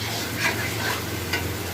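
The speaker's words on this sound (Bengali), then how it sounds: "মাংসের পাকোড়াও হচ্ছে, আবার এদিকে চিকেন কষাও হচ্ছে" Meat pakoras frying alongside chicken kosha cooking in a restaurant kitchen, a brief dense sizzle with soft stirring scrapes close by.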